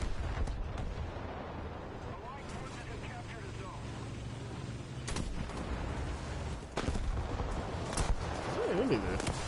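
War Thunder battle with repeated gunshots and artillery blasts booming over a continuous rumble, a few loud bursts standing out amid the din.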